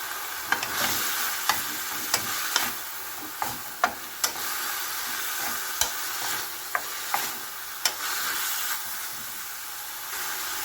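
Carrot being stir-fried in a pan for ginisang togue with chicken: a steady sizzle and hiss under repeated light scraping clicks of a utensil against the pan, close up and with no talking.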